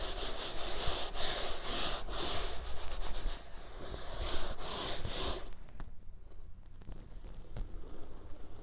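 A shop towel is pulled and peeled back from wet paint on a surface, producing a close, continuous rubbing and crinkling texture with brief sharper tugs, fading to quieter scraping toward the end.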